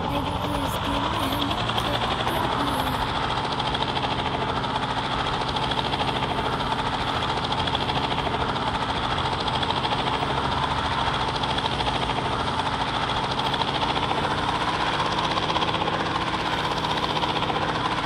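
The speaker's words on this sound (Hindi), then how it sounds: "इस गेम में हेलीकॉप्टर भी है" Steady, droning helicopter engine and rotor noise in the video game GTA 5 runs loud and unbroken throughout, with faint voice-like layers mixed in beneath the mechanical hum.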